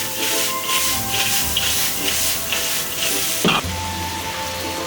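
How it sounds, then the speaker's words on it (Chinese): Bamboo shoots and cured pork stir-fried in a wok over high heat, with a loud, continuous sizzle and hiss and rhythmic scraping strokes of the spatula, plus one sharper clatter near the end. "继续用大火翻炒均匀。"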